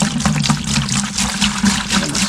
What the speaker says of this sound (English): So we're gonna pour that in there.